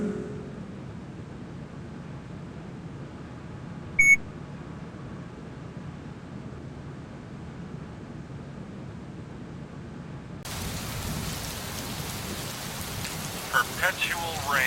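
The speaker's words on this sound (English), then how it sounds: "Perpetual rain." Steady rain in the sci-fi adventure game Gemini Rue, a constant hiss of falling water that grows denser and louder near the end, with a brief electronic blip early on and a voice speaking faintly.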